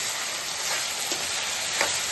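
Ivy gourd and coconut fry sizzling in a pan, a steady dense hiss with faint scraping as it is stirred.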